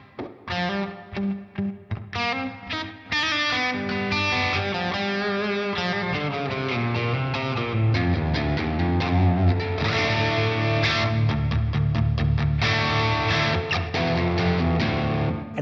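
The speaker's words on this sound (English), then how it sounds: "Without the delay, you can listen basically the reverb in stereo." An electric guitar run through a TC Electronic Plethora X5 pedal with stereo reverb and no delay, playing picked notes and then sustained distorted chords that wash into a long reverberant tail, loud and without talking.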